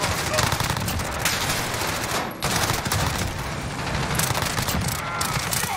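Rapid automatic MP5 fire from a Modern Warfare shooter game pours out in dense, sustained bursts with a brief break midway, loud and close, with a voice talking faintly underneath.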